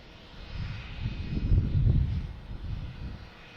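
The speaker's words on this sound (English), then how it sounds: "We have Scandinavian Airlines heading to Copenhagen." A Scandinavian Airlines jet airliner bound for Copenhagen passes at Boston Logan Airport, its engines a low, distant roar that swells and fades over a few seconds.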